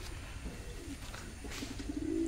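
Fancy pigeons coo softly in a loft, a few low murmuring calls rising near the end over a steady background hiss, with no voices.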